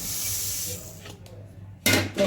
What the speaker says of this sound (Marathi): तीळ बघा आपले कसे भाजतायत, आवाज कसा येतोय बघा.